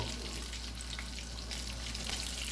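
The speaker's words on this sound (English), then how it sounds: "Then we're gonna go over to the hot grease." A floured Louisiana seafood cake sizzles steadily in hot grease, a constant, fairly quiet crackling fry with no pauses and no talking.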